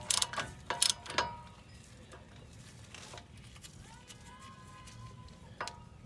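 Bolts on the brake bracket of a 2014 GMC Sierra being tightened with a ratchet: a few quick clicking bursts at the start, then quieter scattered clicks under faint background noise.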